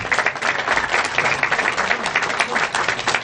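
Audience applause for Pat and Frank at the 2018 New Jersey Senior Olympics, a steady, dense patter of many hands clapping at close range without pause.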